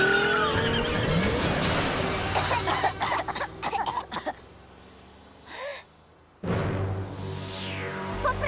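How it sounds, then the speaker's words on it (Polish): Cartoon car revving at full throttle and skidding in a children's animated show, a rising engine roar with squealing tyres and sharp bursts, briefly dropping out before a loud swooping acceleration returns. "A teraz gaz do dechy. Ultra prędkość!"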